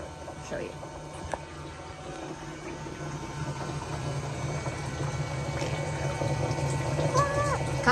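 Fresh water runs from a pump through a DIY off-grid drinking water filter into a container, a steady low trickling and hum with a slight rise toward the end, a few faint clicks over it.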